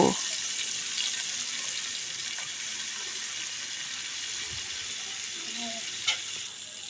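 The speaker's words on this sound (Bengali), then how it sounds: "পেঁয়াজটাকে এবার তেলের সাথে ভেজে নেব।" Chopped onions frying in oil left over from frying fish, a steady, even sizzle throughout with a couple of faint clinks. No talk is heard.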